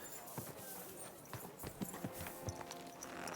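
Horse hooves clip-clop at a steady walking rhythm in the medieval game Kingdom Come Deliverance 2, moderately close, with a soft ambient bed behind the steps.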